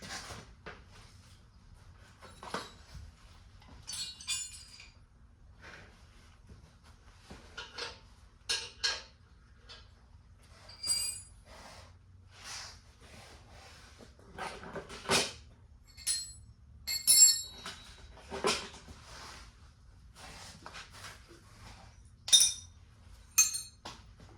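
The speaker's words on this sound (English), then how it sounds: "Where's the 1/2-inch wrench?" Metal hand tools clink and rattle in scattered bursts while someone rummages for a 1/2-inch wrench during work on a John Deere 110 lawn tractor, with sharp, irregular knocks and jangles that are close and moderately loud over a quiet background.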